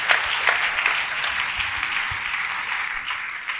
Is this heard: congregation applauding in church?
yes